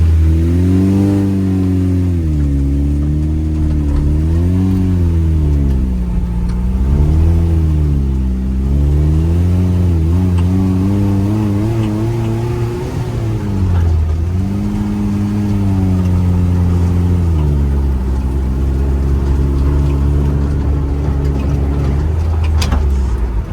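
The engine of a Deep Orange 3 concept car drones steadily while driving, its pitch rising and falling in repeated waves as it accelerates and eases off, loud and close with no talking.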